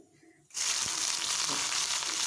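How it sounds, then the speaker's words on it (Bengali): Cumin powder, black cumin, chopped onion and chilli hit hot oil: after a brief quiet moment a loud, dense sizzle bursts up and holds steady, close and continuous. "পেঁয়াজ কুচি মরিচ কুচি দিয়ে একটু ভাজা ভাজা করব।"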